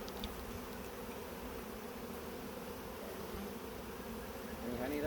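Wild bees being moved into a beehive hum in a dense, steady buzz from many insects close by, fairly quiet overall and swelling slightly louder at the very end.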